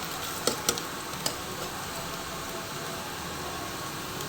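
Browned onions sizzle steadily in a pan as spices go in, producing a constant loud frying hiss with a few stirring clinks near the start, no voices.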